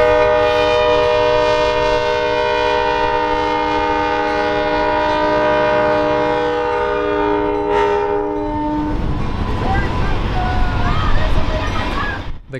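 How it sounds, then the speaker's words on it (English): Western Maryland SD40 diesel locomotive hauling the North Pole Express, with former Ann Arbor Railroad cabooses and coaches, into town; a long sustained multi-tone horn blast sounds up close, then gives way to rumbling, clattering train noise. "the North Pole Express pulls into town to disembark passengers"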